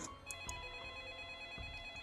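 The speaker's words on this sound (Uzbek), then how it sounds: "Shunda telefon yana jiringladi." A telephone rings in a quiet room, its bright repeating tones sounding steadily for a moment over a low background hum.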